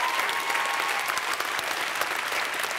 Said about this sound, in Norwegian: Synes jeg vi kan klappe for vinnerne og de nominerte alle sammen en gang til.